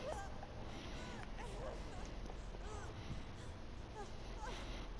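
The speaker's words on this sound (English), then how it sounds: "This dog's still barking, bro." Dog barking in the horror game Dead by Daylight, repeated yips and whimpering barks mid-distance over a dense ambient rumble, with people talking faintly underneath.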